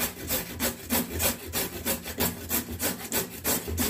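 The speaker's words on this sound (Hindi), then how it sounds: "अब हम इन गाजर को घिस लेते हैं।" Carrots for gajar ka halwa are rubbed against a grater in quick, even back-and-forth strokes, a close rhythmic scraping with no voices.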